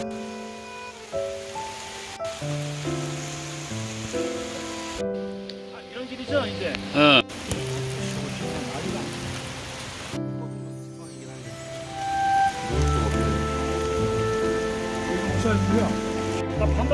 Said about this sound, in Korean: 오, 비.